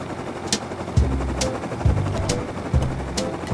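Gunfire rattles in short repeated bursts about a second apart beside the thudding rotor of a helicopter in the survival game Rust, with no talking.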